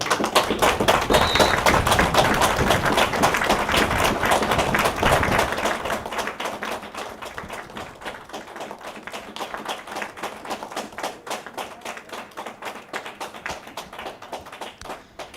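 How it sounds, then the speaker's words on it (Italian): Long sustained applause from a crowd at a women's Serie C football match between Meran and Trento, honouring victims of femicide; dense clapping starts loud, then thins and softens into steadier scattered claps toward the end. "Uniamoci in un lungo applauso per ricordare Giulia Cecchettin"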